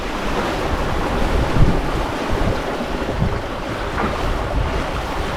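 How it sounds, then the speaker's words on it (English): A sailboat flying a large spinnaker under sail, with a constant rush of waves and surf against the hull and heavy wind buffeting close to the microphone, no voices. "Anyway, we're sailing, guys."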